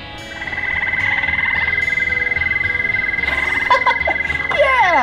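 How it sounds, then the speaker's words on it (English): A toad in an interactive children's museum display gives one steady, loud, continuous trilling croak for several seconds, close and alone, ending with a few rising chirps. "Yeah, that's the toad."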